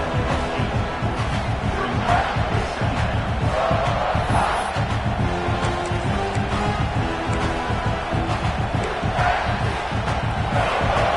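Football stadium crowd roaring steadily and swelling as fans rise up during a game, a dense, loud wall of cheering and shouting throughout.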